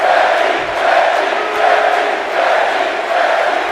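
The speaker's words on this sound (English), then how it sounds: "Crowd is on their feet here for Becky Lynch." A crowd in the WWE 2K22 video game, at a Friday Night Smackdown match, keeps up a steady, loud roar of cheering that swells and dips in waves, with no talk over it.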